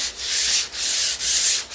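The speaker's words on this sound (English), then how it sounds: "we're going to use a really rough grit sandpaper, sanding disc, and we're going to go back through" Rough-grit sanding disc worked by hand across MDF, three close, loud gritty rubbing strokes with short pauses between them, no talking.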